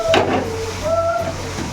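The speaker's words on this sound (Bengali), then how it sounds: "এখন মশলা কষানো চলবে, মশলাটা কষানো হোক" Spices sizzling and being stirred in a hot frying pan, a steady close crackle with the scrape of a spoon sweeping through, no talking.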